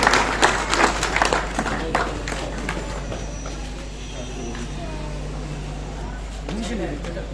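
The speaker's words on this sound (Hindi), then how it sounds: "इनके लिए जोरदार तालियां।" Audience at an Independence Day foundation event applauding a student honoured for her BCom score, a burst of clapping that fades into a low steady hum, with a voice speaking over it.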